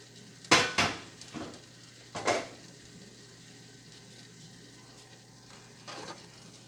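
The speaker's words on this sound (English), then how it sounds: "I'm going to take this big skillet and I'm going to transfer what's in my deep pot into this skillet" Food is moved from a deep pot into a big skillet, with a few sharp metallic clanks and scrapes of utensil against cookware, two clusters early on and a faint knock near the end over a quiet background.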